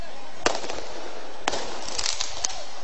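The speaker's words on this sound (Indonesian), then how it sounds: "dari pihak warga sendiri telah melempar petasan ke arah Satpol PP" Firecrackers thrown by residents during a clash with Satpol PP officers at Kampung Pulo go off in sharp, separate bangs, several in under three seconds, some followed by quick crackling, over a low background murmur.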